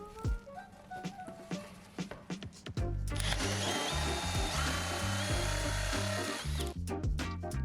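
A cordless drill fitted with a Forstner bit bores into wood. Short, sharp bursts come first, then a loud, sustained grinding whir with a steady motor tone runs close by, easing off near the end.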